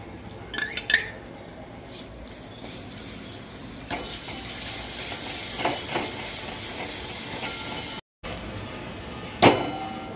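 Ginger garlic paste frying in oil in a kadhai, a steady soft sizzle running throughout with a few spoon scrapes and clinks against the pan, close and fairly quiet without talk.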